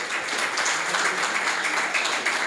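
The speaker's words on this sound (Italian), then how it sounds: "Applauso, applauso" A crowd applauds steadily, a dense patter of many hands clapping at once with no pauses.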